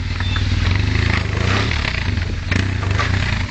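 A motorcycle engine labors loud and close while climbing a steep lane, a steady throbbing drone with a rhythmic pulse and a brief surge of revs partway through.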